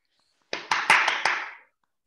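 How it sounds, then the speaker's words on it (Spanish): A few close claps over a video call: around five sharp hand claps in a quick burst, loud and near, with a brief ringing tail after the last. "Un aplauso, aunque sea así virtual,"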